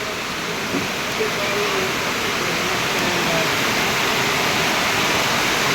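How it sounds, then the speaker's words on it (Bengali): A relentless downpour in the capital, water pushing into a shop, heard as a loud, unbroken broadband rush that grows a little stronger toward the end. "সাড়ে তিন ঘন্টা ধরে বৃষ্টি হইতেছে"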